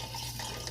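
Tea poured into a pitcher of lemon juice for an Arnold Palmer drink, a brief, steady liquid stream splashing close by, with no talking.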